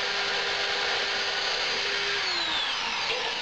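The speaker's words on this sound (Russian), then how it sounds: "Засверливаем сначала отверстие кабины танка" A power drill bores a hole into the cabin of a wooden toy tank, a steady high whine with rough grinding of bit into wood, close and continuous, the pitch dropping slightly as it bites.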